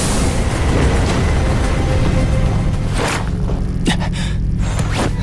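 A loud, roaring explosion rumbles on, with sharp bursts and pops breaking through near the end.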